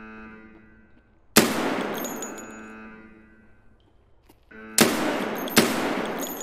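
USP pistol shots in Escape From Tarkov crack out three times, each a sharp, loud report with a ringing tail; the first stands alone, then two follow in quick succession about a second apart.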